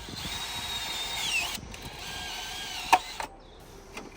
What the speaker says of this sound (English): So first thing, we're going to drill this out.